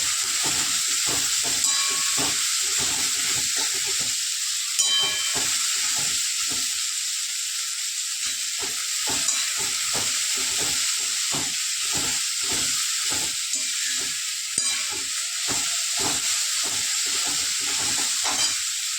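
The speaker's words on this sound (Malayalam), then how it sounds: "സവാള നല്ല ഉതിർത്തി നന്നായിട്ട് തരും. തീ നല്ല ഹൈ ഫ്ലെയിമിൽ വെച്ചിട്ട്" Onions frying on a high flame, stirred steadily in the pan: a continuous loud sizzle with rapid rhythmic scraping strokes throughout, close and with no talk.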